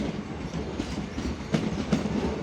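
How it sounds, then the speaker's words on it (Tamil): A train pulling into a railway station platform, its wheels clattering in a steady clickety-clack with rhythmic thumps as the cars roll past, heard close and continuous without any voices. "ட்ரெயின் வந்து கொண்டிருக்கிறது."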